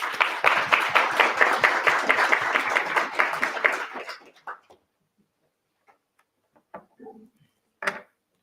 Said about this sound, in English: So thank you, and applause to Matt as well.